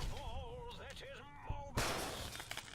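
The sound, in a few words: enemies exploding in video game Fallout: New Vegas, Old World Blues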